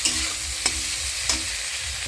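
Chopped tomatoes frying with onions in a kadai for kadai paneer: a loud, dense, continuous sizzle close by, with a few sharp spoon scrapes against the pan.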